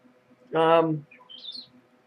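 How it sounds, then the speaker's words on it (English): A pet woodpecker gives a single loud, harmonic call lasting about half a second, followed by a few fainter high chirps, close to the microphone with no talking. "That was Twink, my woodpecker."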